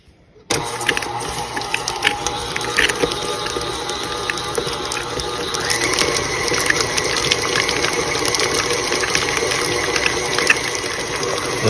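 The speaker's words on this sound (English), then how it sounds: "I'm gonna use this paddle first, just until everything's mixed together, because the cream cheese is a little tough still" A stand mixer with its paddle attachment churns a firm mix of cream cheese, eggs and vanilla, a steady mechanical whir and rattle that carries on without pause, close by and fairly loud, with no one talking.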